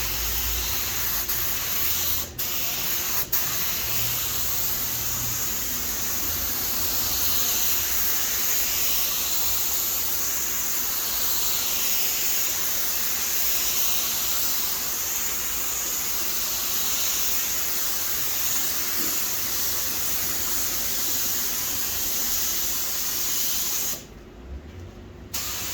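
A finish spray gun with air and fan fully open and the fluid knob at two turns sprays a first coat, a continuous soft hiss lasting over twenty seconds that cuts off near the end, with no talking.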